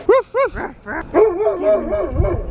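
A junkyard dog barks close by in two sharp yelps, then whines and grumbles in drawn-out rising and falling vocal sounds, loud and near.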